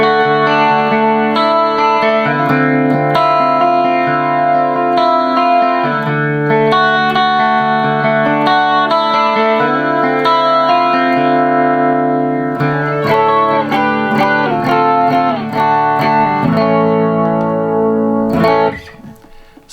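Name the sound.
electric guitar through JHS 3 Series flanger pedal, Fender Tone Master Twin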